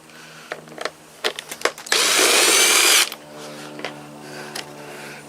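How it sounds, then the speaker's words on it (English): A power drill whirs steadily for about a second while backing screws out of a Bissell ProHeat carpet cleaner, preceded and followed by sharp clicks and knocks of handling parts and tools, close and loud with no talk. "Now we're going to take these screws out around here."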